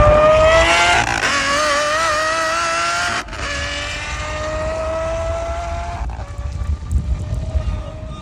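Aston Martin fitted with an aftermarket exhaust revving loudly nearby, its engine note rising and holding in sustained bursts with a brief dip around the middle and a rougher tail at the end.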